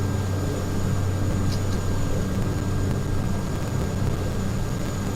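A single running aircraft engine in Microsoft Flight Simulator, on a flight from Carlisle to Penzance, gives a steady constant drone with no change in pitch throughout.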